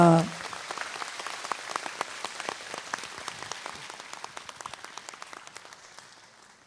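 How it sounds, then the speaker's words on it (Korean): A hall audience at the 30th Gwangju women's convention claps in a dense, steady burst of applause that gradually thins and fades toward the end, heard alone without talk. "여러분 다시 한번 축하의 박수 부탁드립니다"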